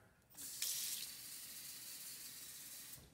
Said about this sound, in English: I'll put a little soap in there